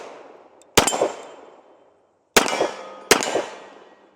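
Three sharp pistol shots from a Kimber 1911 in .45 firing 230 grain Winchester white box ammunition, irregularly spaced, each with a short ringing decay.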